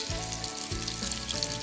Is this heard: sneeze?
no